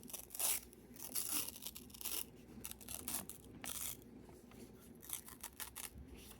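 A paper coin roll wrapper is torn open in short, crisp ripping bursts and crinkles, close and fairly quiet, repeated several times with brief pauses between.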